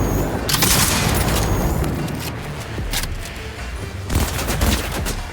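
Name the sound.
gunfire from a gun in the video game Cyberpunk 2077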